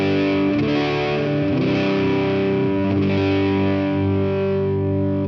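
A thick, heavily distorted electric guitar through a JHS The Violet distortion pedal chugs through sustained chords, loud and dense with booming lows and sizzling highs but a hollowed-out middle.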